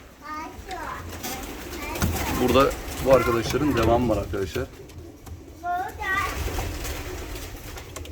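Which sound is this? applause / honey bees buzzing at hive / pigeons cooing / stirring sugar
pigeons cooing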